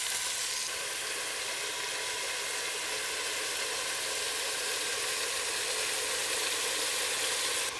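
Beef sizzling and frying in hot oil in a pan, browning in batches for a green chile stew; a steady, dense, continuous sizzle with no talk over it.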